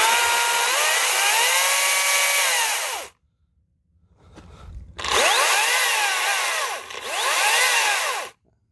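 A Makita 18-volt cordless electric chainsaw whines up to speed twice in long, loud bursts, its pitch rising and falling with the variable trigger, separated by a brief near-silent pause and a low clunk.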